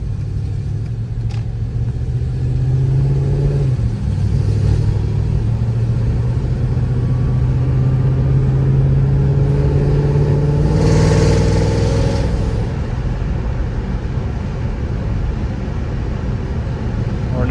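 A Mercedes E55 AMG's engine rumbles and revs under hard acceleration in second gear, the pitch climbing steadily through a long pull, loud and close throughout with a continuous roar.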